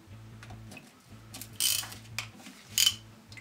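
A ratchet clicks in quick rhythmic bursts as Torx bolts on the transmission oil pan of a Mercedes 722.9 automatic gearbox are cracked loose, with a couple of brief metallic clinks between the runs.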